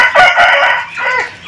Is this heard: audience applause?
no